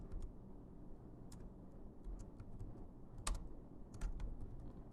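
Keystrokes on a computer keyboard while entering a BMI calculation formula, a few distinct clicks standing out over a steady low background hum, fairly faint and close.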